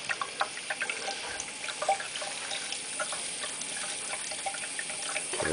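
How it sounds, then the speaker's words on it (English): Water spilling over the ledge of an Xpert Glowfall liquid cooling reservoir inside an Antec 1200 PC case, a steady faint trickle and splash with scattered small drips, heard alone and close. "it is definitely pushing the water over the ledge"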